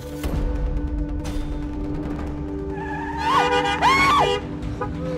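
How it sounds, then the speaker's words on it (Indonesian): In an Indonesian TV drama scene, a car nearly hits someone: a steady engine rumble runs throughout, then comes a sharp tire screech mixed with a loud, rising shout. "kamu hampir aja ketabrak mobil."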